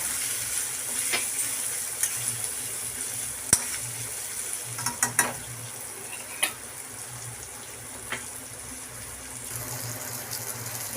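Kashmiri red chilli and coriander powder being stirred in a hot pan for an Assamese fish curry with ridge gourd, a steady soft sizzle with a few sharp spoon scrapes and taps against the pan.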